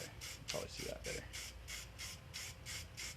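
Aerosol spray paint hisses in short repeated bursts onto an old Xbox controller, about a dozen quick, close, rhythmic sprays with a few faint rubbing sounds early on.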